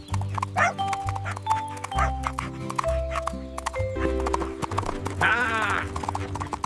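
Horses walking with steady clip-clop hooves on a farm, a whinny rising near the end, all set against cartoon music.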